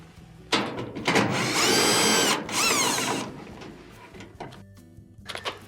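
Power screwdriver backing out screws from the front top panel of a Whirlpool dryer, several whirring bursts of the motor with rising and falling pitch, separated by short pauses and light clicks.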